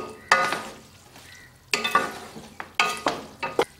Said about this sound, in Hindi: अब इनमें हम 2 टेबल स्पून ऑयल डालेंगे। इनको अच्छी तरह से मिक्स करके रख देंगे